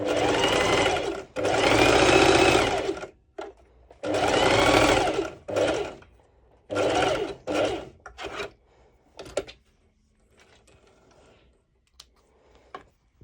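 A sewing machine runs a straight stitch along a one-shoulder top in several loud, close bursts of rapid rhythmic whirring, separated by pauses and short clicks, before fading to quiet handling sounds.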